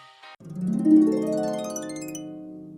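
A magic amulet in The Sims: Makin' Magic summons toads, heard as a single loud, drawn-out croak that swells and then fades after a brief opening chirp.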